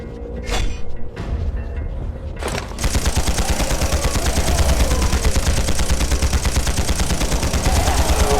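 Gunfire in the sci-fi shooter game Implosion: a few separate sharp shots, then a long loud rapid automatic burst that runs steadily to the end, with no talking.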